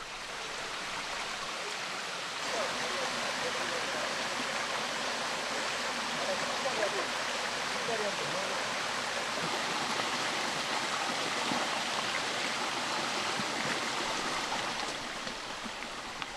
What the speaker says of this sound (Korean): 곳곳에 크고 작은 폭포들이